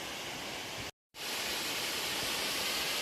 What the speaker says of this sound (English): there's a beautiful hidden waterfall back yonder